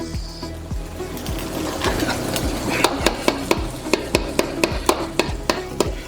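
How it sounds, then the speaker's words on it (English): Eggs go into a wok with a little added oil, a steady sizzle running beneath a fast, rhythmic series of sharp metallic taps as the eggs are broken up and stirred. "Make a well in your wok. Add a little more oil and add your eggs."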